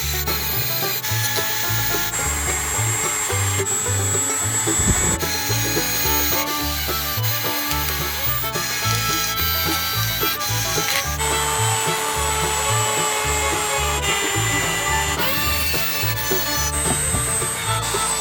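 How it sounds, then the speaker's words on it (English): A Parkside rotary multi-tool, a Dremel-style handheld, spins a wire wheel against a King Dick pipe wrench during a restoration. It makes a steady, loud, close grinding whine with scratchy rasping that runs without a break. "I've actually had this a few years now, Parkside multi-tool or Dremel fake."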